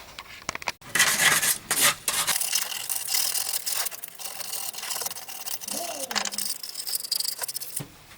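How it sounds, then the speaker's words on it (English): Sandpaper rubbing over a cut PVC belt clip, giving a close, scratchy rasping with short bursts and pauses in between, plus a few light handling knocks. "All I need to do now is give that a clean up with some sandpaper"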